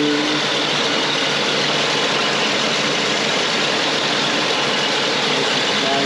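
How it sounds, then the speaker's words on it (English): A 1985 Oldsmobile Delta 88 Royale Brougham with a 5-liter engine idling just after startup, a steady, smooth, even hum with no sputter, heard close and alone with no talk. "Go ahead and get inside and fire her up."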